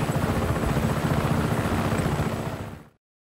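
A helicopter in the video game Just Cause 3 gives a loud, close, steady rotor thrum that holds for nearly three seconds, then quickly fades to silence.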